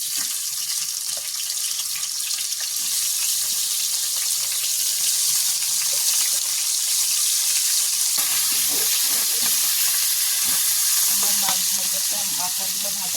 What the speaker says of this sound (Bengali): এই চুলায় আমি এখন মাছের মাথাটা ভালো করে ভেজে নিব